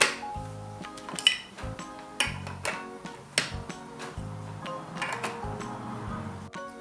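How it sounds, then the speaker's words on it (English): Plastic lids click and snap onto small Orbeez toy containers, a string of sharp, close taps and clinks with short pauses between them and no talking. "Now to put the lids on."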